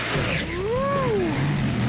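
A 1968 Chevy Camaro engine revs up and falls away in one smooth swell, its rising and falling whine standing out over a steady broadband rumble and background noise, with no talk.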